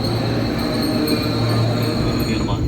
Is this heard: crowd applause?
no